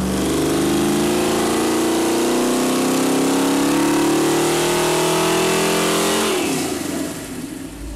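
A high-performance small-block V8 built from catalog parts revs hard on a dyno, its loud engine note climbing steadily for about six seconds before dropping sharply as the throttle closes.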